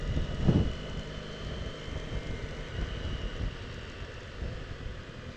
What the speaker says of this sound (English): it's actually quite windy this morning as well